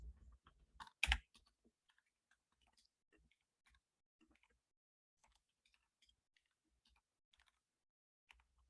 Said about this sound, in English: I'm sorry if my keyboard is a bit loud.